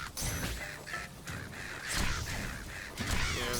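Crows caw repeatedly in the video game Zelda Echoes of Wisdom, harsh calls mixed into busy, noisy game sounds with some crashing effects, fairly faint overall and with no one speaking.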